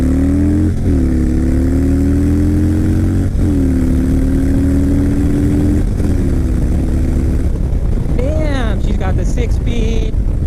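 A 2012 Harley-Davidson Switchback V-twin pulls hard past a Toyota Tacoma on the road, its loud engine note climbing through several gear shifts amid heavy wind rush.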